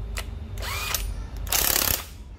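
A used Japanese cordless drill whirs in drill mode, brief motor bursts starting and stopping up close, the last run longer and louder, with faint handling clicks between.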